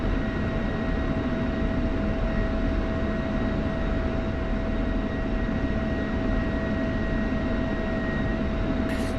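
F-16 jet taxiing in a flight simulator game, a steady, even engine drone with no variation and no voices.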